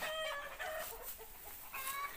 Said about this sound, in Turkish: Bir taraftan tavuk sesi, bir taraftan horoz sesi.